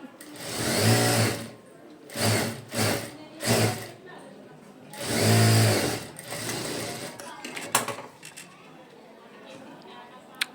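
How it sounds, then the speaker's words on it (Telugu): Sewing machine stitching puff sleeves on a garment, running in several close bursts of varying length, with a longer run midway and quieter handling noises and small clicks toward the end. "పైన ఒక కుట్టు కింద ఒక కుట్టు అయితే వేసుకోవాలి"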